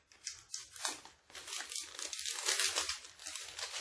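Crinkling and snipping of plastic packaging as scissors cut through it, close and fairly quiet, with irregular rustling bursts.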